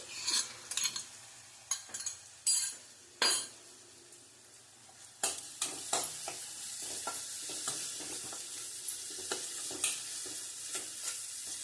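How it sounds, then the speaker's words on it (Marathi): Ginger garlic paste fries in a pan for matki misal, with a soft sizzle under repeated sharp scrapes and clinks of a spoon stirring. The stirring comes in bursts early, then gives way to lighter, scattered taps. "घरात केलेले आले लसूण पेस्ट घालचे."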